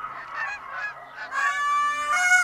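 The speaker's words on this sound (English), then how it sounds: "Here come the geese." Flock of geese honking in theHunter: Call of the Wild hunting game, a busy overlapping chorus of calls that grows louder and denser toward the end.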